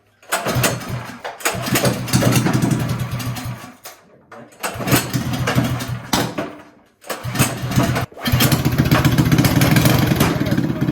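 A rebuilt minibike engine sputters to life after a few false starts, then runs loud and steady with a rough, choppy idle, cutting out briefly before catching again and revving up close by.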